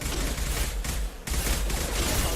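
Rapid bursts of gunfire in a Mass Effect 2 combat scene, a dense, loud barrage that runs almost the whole time and drops away briefly in the middle.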